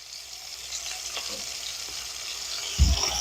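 Seasoned chicken pieces fry in a pan, giving a steady close sizzle throughout, with a soft bump near the end.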